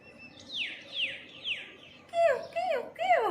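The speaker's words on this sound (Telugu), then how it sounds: "బర్డ్స్ బాగా అరుస్తాయి ఉదయాన్నే." Several birds call in the morning, a short series of descending chirps followed by louder, sharper swooping calls, fairly close and clear over a quiet background with no talking.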